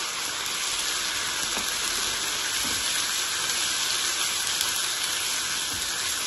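Chopped tomato and fresh fenugreek leaves hitting frying chana dal in a pan, giving a continuous broad hissing sizzle, even and close, with no voices.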